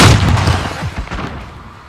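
A flashbang grenade bursts in the Modern Warfare shooter, a loud close boom up front followed by rumbling low thuds and a fading tail of battle noise.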